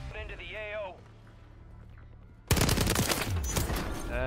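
A StG 44 assault rifle firing in the shooter Warzone. A loud, dense burst of rapid gunfire comes in suddenly halfway through, after quieter in-game sounds and a short tonal cue.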